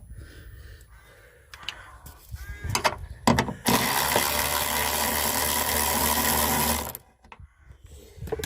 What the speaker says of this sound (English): That ratchet does make things a lot easier.